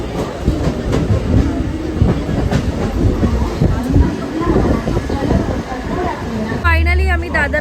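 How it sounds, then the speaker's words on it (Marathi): A suburban train bound for Kurla pulls into a station with steady rumbling and clattering wheels while voices carry underneath. "आता आमची रिटर्न ट्रेन आलेली आहे कुर्ल्याला जाण्यासाठी."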